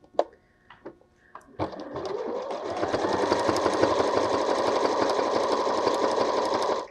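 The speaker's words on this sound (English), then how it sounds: "Pop it in your sewing machine with your correct colour thread." A sewing machine stitches yellow fabric pieces with matching thread to top-stitch a bee appliqué onto a cushion. After a few soft clicks it runs in one steady, loud, droning burst of several seconds.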